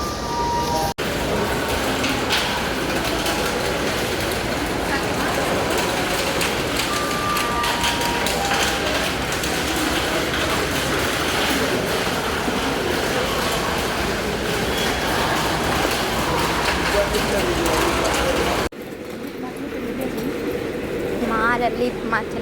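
An Ahmedabad metro train runs toward Motera, a steady rumbling ride with rail clatter and hum heard from inside the car, people talking over it, before the noise drops away near the end.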